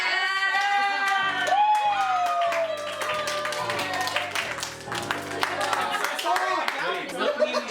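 People at a Mafia game gathering clap their hands in a steady stream of sharp claps running under music with sung vocals and voices in the room.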